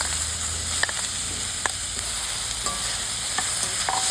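Boiled telakucha (ivy gourd) fruit frying in oil in a pan: a constant sizzle with a spoon scraping and clicking against the pan at irregular intervals, close and fairly loud, no talking.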